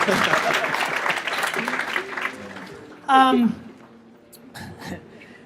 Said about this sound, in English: let's clap it up for these fuckers